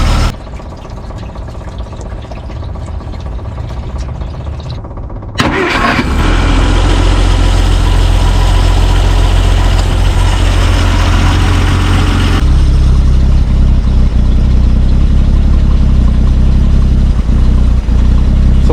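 A 1951 Plymouth Cranbrook's engine, run cold after sitting dead, cranks and catches, then settles into a loud, close, steady running rumble that continues without pause.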